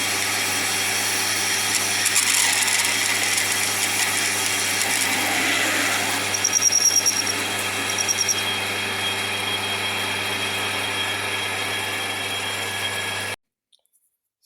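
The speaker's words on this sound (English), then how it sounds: "we're going to drill this out to about 15mm" A 10mm hole in a Rover P4 steering shaft part is drilled out to 15mm, a steady power-tool whir running continuously for about thirteen seconds, close and fairly loud, with brief bites of louder cutting midway before stopping abruptly.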